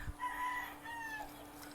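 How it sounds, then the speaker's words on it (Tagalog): A chicken in a backyard coop crows once in a drawn-out, wavering call, fairly close but moderately quiet, over a steady low background hum and no speech. "Ayan yung manok ko."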